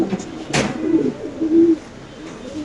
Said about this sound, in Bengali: এখানে আছে একটা শৌখিন কবুতর, আপনি দেখতে পাচ্ছেন।